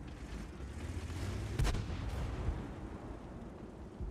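Artillery fire in World of Tanks, a single muffled boom standing out from a steady rumbling battle ambience, with a fainter thud shortly after.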